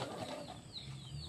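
A duck and a chicken scuffle over food, with a burst of flapping wings and fluttering, rustling movement close by, fairly loud and busy throughout, with no talk.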